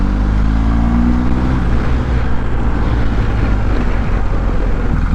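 A BMW 1250GS Night Black motorcycle engine runs loud and close, its rising harmonic whine sweeping up in pitch over the first seconds before settling into a steady, heavy drone under wind noise.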